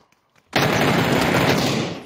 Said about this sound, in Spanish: me han llegado más tiros de atrás que de adelante